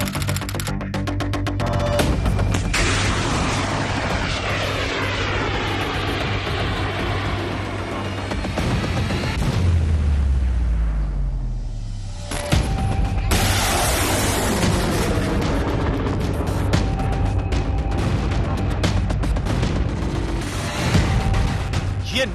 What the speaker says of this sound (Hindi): ये नाग मिसाइल की गर्जना है।